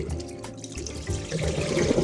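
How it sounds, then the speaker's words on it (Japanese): Fermented bamboo shoots for menma being rinsed under a running tap, a steady close splashing wash of water that swells louder toward the end, with no talking. "よーく水で洗います"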